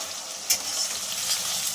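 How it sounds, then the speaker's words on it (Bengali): Onion paste frying in a pan for a fish curry: a steady, close sizzling hiss with a brief scrape of stirring near the start, running unbroken for a moment. "পেঁয়াজ বাটাটা ভালো করে ভেজে নেব"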